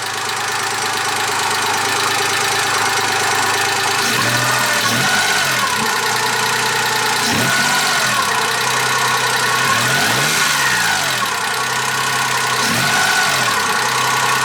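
A car engine fitted with an open air intake idles loudly and close, rough and gritty, with several throttle blips rising and falling in pitch at intervals.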